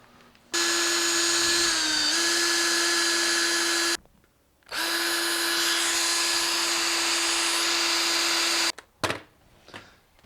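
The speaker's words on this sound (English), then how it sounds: "Next step is to drill some holes along the bottom here." A power drill bores holes into the wooden sides of a homemade biltong box in two long, loud, steady bursts with a short pause between, then stops, followed by a few clatters.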